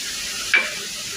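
Prawns sizzle steadily in a hot pan with ginger garlic paste and ground cumin and coriander, a continuous close hiss with a brief stirring scrape midway.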